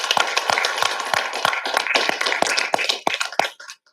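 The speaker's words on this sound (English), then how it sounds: "let's just make sure that we give a round of applause to our students" Scattered claps from a small audience at a symposium on anti-racism, honoring students; sharp individual hand claps in an uneven rhythm for about three and a half seconds before stopping.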